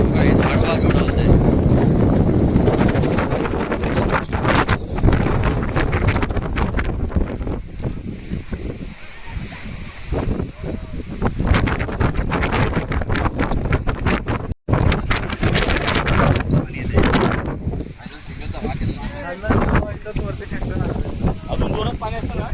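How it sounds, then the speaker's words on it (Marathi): Strong gusts batter the microphone at a hill station in Ratnagiri near a reverse waterfall, roaring loud and buffeting throughout with a brief dropout midway, while people talk intermittently beneath the wind. "हवेचा आवाज तुम्ही बघू शकता. एवढा आहे."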